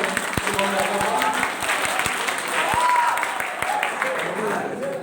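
An audience at a college fresher fest claps in sustained applause, with a few sharp nearby claps and faint voices and tones mixed underneath.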